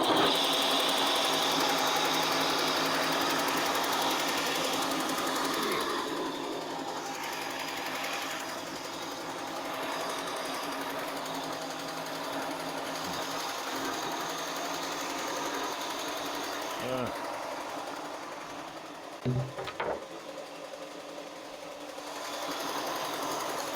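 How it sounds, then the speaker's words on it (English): A belt sander works a wooden kitchen bench up close, giving a continuous loud buzzing whir that eases slightly after the opening seconds, with a few knocks and clunks near the end. "I'm gonna sand this down."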